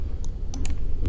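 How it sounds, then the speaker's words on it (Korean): Several quick, sharp computer mouse clicks, close and crisp, spaced irregularly over a low steady background hum. "클릭"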